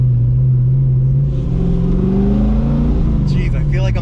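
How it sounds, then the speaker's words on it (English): A 500 hp LS V8 swapped into a Porsche 911 drones loud and close from inside the cabin, its deep exhaust rumble rising in pitch as it accelerates steadily, with voices briefly talking over it near the end. "we gotta talk pretty loud to get over the sound of this engine and exhaust."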